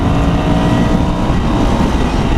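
A Ducati Scrambler motorcycle engine revs hard toward the top of its range, a loud, steady, close roar that holds without break and has no voices over it.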